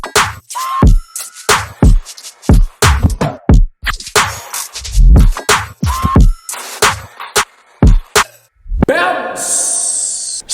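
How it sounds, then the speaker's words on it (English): Punchy electronic drum pattern from the remix, with hard kicks, snappy snares and scratchy hits in a bouncy stop-start groove. It is loud and upfront and ends in a rising swept noise. "But the drums in this track sounds like this."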